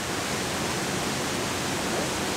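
The waterfall in the town of Saarburg on the Saar, by an old mill, roars close and loud as a dense, unbroken rush of water with no voices.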